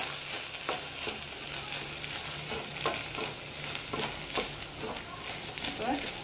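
Boiled sweet corn frying in butter in a pan, a steady close sizzle with periodic scraping stir strokes, a voice speaking over it.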